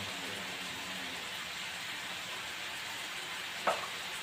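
Onions fry in a pan with a low, even sizzle throughout, quiet and steady, broken once near the end by a short utensil clink.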